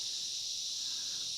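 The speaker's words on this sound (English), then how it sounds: "Cicadas are still going." Cicadas drone in bushland near a waterfall around Bellangry, a steady, even, high-pitched buzz that holds at a moderate level through the whole stretch with no break or other sound.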